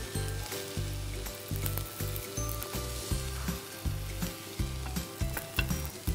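Zucchini grilling in a pan with oil and chili, a loud close sizzle broken by repeated rhythmic low thumps and scrapes of the pan or utensil, with no talking.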